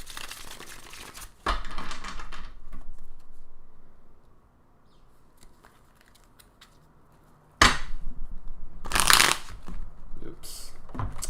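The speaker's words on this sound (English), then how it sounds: "I like to shuffle a lot for these" Tarot cards are shuffled close up in two bouts of rapid riffling and slapping, with a quieter pause between them.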